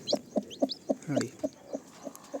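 Baby chicks on a village farm cheep in a steady run of about ten short, evenly spaced peeps, close and fairly clear over a quiet background.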